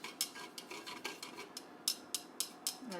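A thermometer stirring a cloudy solution in a calorimetry cup for a heat of solution experiment, a steady run of light, quick clinks and taps of glass against the container, close and faint, with no talk.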